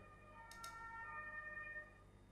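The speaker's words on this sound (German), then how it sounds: "Hört ihr? Sirenenalarm schon im Hintergrund." A siren wails faintly in the background of the video game Ghost Master, a steady, distant rising-and-falling tone that lasts most of the moment, with no talk over it.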